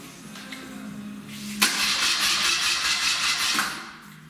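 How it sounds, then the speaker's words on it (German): BMW motorcycle engine cranking with a whirring starter, then catching and running at a steady, moderately loud idle for a couple of seconds before settling lower. "Weißt du, ob die BMW startet?"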